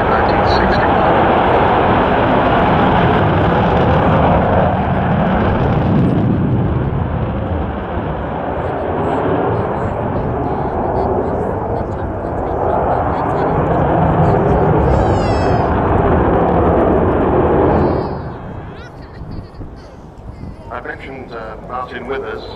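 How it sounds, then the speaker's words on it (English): Avro Vulcan XH558 bomber flying over RIAT at RAF Fairford, a loud sustained jet roar that swells and fades, with a commentator talking over it and the noise dropping away near the end. "This particular aeroplane was the first B-2 version of the bomber, the second Mark, into RAF service in Bomber Command in 1960."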